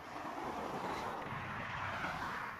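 A helicopter flies overhead outdoors in Turkey, towing something beneath it, heard as a faint, steady distant rotor and engine rumble mixed with wind noise and no voices.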